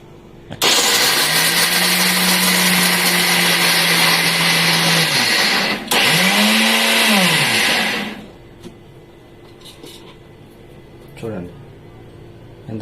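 A blender grinds homemade protein powder ingredients in loud bursts: a steady high whir for about five seconds, a brief pause, a second shorter spin, then quiet with faint handling sounds.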